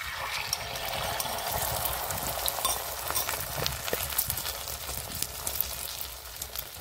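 Beaten egg seasoned with salt sizzling in a pan for a Kolkata-style egg roll, a steady close crackle and hiss running throughout with small pops, no voices.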